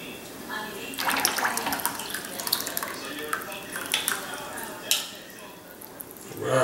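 A whole jar of Island Teriyaki marinade with sesame seeds pours for a pork stir fry: soft liquid splashing and glugging, close and fairly quiet, with scattered drips and a few clinks.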